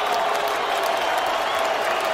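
A San Jose home crowd roars with sustained applause and cheering after Cung Le's knockout of Mike Altman at an MMA event, a loud, dense wash of clapping and voices filling the arena without a break.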